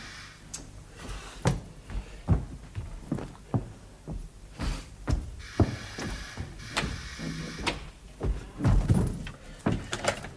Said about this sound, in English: open the bloody door!